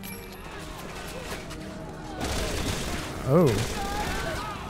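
Gunfire in the video game Resident Evil 6, a dense burst of rapid shots and impacts under game noise, with a voice briefly reacting over it.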